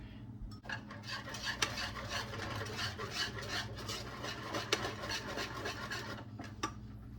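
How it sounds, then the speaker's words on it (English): A spoon scrapes and stirs cajeta, goat milk caramel, in a pot as it nears a boil: a steady close rasping rub with occasional clinks against the pot, continuous, with no talk. "We're just going to keep kind of stirring this because it's getting really close to a boil"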